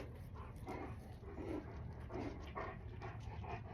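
A puppy pants in quick, rhythmic bursts with soft whimpers mixed in, faint and close by in a quiet indoor room.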